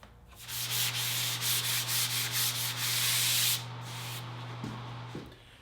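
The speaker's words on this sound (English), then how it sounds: "Now that I've got the frame sanded" Rhythmic strokes of sanding on a painted frame filled with joint compound, quick and close for about three seconds, over a steady low motor hum, then the scraping drops to a softer hiss.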